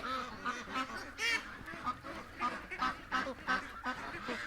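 Ducks in a farm pen give a run of repeated nasal quacks and honking calls, moderately close, several birds overlapping in an uneven rhythm.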